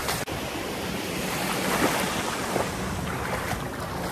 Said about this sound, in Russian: волна идет какая.